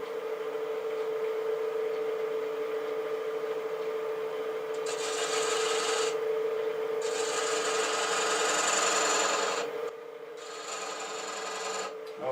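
A tool rasps against a spinning wooden workpiece on a lathe, with the motor's steady hum underneath. The scraping comes in sustained stretches separated by short gaps, close and moderately loud.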